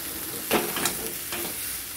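Spices and cloves fry in oil in a pan, stirred now and then; a constant close sizzle carries a few sharper scraping bursts from stirring, and no one speaks.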